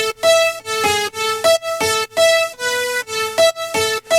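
Fake violin and two detuned super saw leads play a sustained synth phrase in Ableton, with chords changing roughly every half second in a steady pulsing rhythm, loud and alone with no voices.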